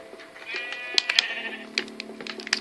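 Sheep in the Minecraft video game bleat in a few short, close, fairly soft calls over a faint steady background tone.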